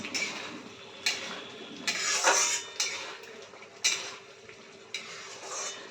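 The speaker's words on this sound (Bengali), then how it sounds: "খুন্তির সাহায্যে দেখো মিশিয়ে দেব" Spatula stirring prawn malai curry in a pan, with scraping clinks against the metal at about one-second intervals over a soft bubbling sizzle, close up.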